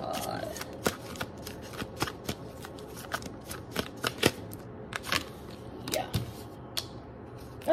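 Tarot cards shuffled and drawn by hand during a reading: soft papery riffles and flicks with crisp snaps scattered throughout, close and fairly quiet, with no talk.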